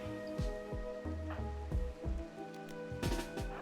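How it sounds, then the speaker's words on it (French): Rain falling in the video game RimWorld, a soft patter with scattered drop taps layered over a low, steady game soundscape with repeating tonal notes. "Faut pas prendre la pluie, sinon tu vas pas être content."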